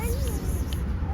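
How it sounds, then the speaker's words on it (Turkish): A cat meows softly a couple of times amid background noise and a low rumble, fairly close but not loud. "Çok aç bu kedi."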